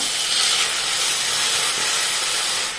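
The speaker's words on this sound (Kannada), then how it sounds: "ಅದೇ ತುಪ್ಪಕ್ಕೀಗ ರುಬ್ಬಿಟ್ಟುಕೊಂಡಂಥ ಹಲಸಿನ ಸೋಳೆಯನ್ನು ಹಾಕಿಕೊಳ್ಳುವ" A loud, steady hiss of ground ripe jackfruit pulp sizzling hard in hot ghee in a wok, close up and unbroken, easing off slightly at the very end.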